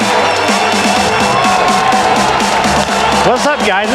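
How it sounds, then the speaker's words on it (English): An audience cheers loudly and steadily for a speaker stepping onstage at a live event, the roar of voices dense and unbroken, with whoops cutting through near the end. "Everyone's clapping and excited."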